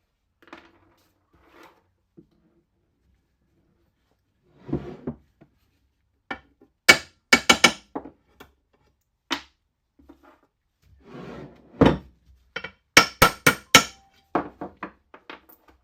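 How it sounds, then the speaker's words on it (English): Sharp metallic hammer blows from a ball peen hammer driving alignment pins out of an Atomic 4 marine engine on a workbench, coming in scattered single strikes and quick clustered bursts with quiet gaps, close and loud. "You can use a ball peen hammer and simply drive them out."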